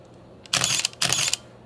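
A Minolta Maxxum 5 film SLR fires twice for a multiple exposure, each a loud close shutter-and-mirror clack with a whirring motor, the two bursts about half a second apart.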